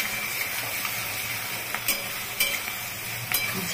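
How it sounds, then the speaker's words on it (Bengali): Onions frying in a pan for egg bhurji, a steady close sizzle with a few brief scraping stirs and clinks of a utensil against the pan. "পেঁয়াজটা প্রায় ভাজা হয়ে গেছে"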